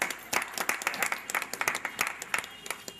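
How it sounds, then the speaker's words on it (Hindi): A crowd at a political party meeting claps in scattered, uneven applause, many hands striking at once, moderately loud and steady throughout. "तो हम लोग उनके लिए ताली बजाएंगे भाई।"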